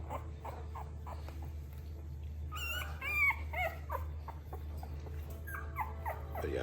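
Several puppies whimper and yip in high, wavering cries that rise and fall, close by over a steady low hum.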